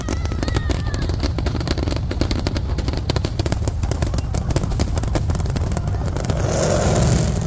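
Loud July 4th fireworks burst in a dense, continuous barrage of cracks and booms, with rapid crackling volleys rolling over one another throughout.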